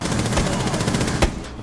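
Rapid gunfire from a firefight in Rainbow Six Siege, a tight burst of shots with one louder crack near the end, fairly close and dominant in the mix.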